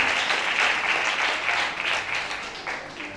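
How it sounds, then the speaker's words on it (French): A brief burst of audience applause at a tribute ceremony for a female singer, with dense clapping swelling and easing over a few seconds. "Applaudissez, applaudissez, s'il vous plaît."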